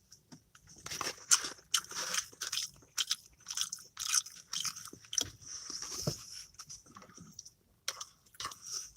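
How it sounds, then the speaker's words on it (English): Close, crisp biting and crunching of food with moist chewing between bites, irregular bursts over several seconds, no talking. "there's a lot of people I know that hate chewing noises"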